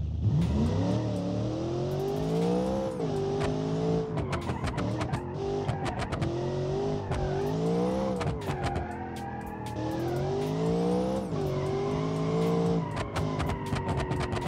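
A 1200-horsepower dual-clutch car with a heavy steel ladder chassis in the BeamNG driving game revs hard through repeated rising gear pulls, each shift cutting in sharply, with tire squeal along the way, loud and continuous with no talking.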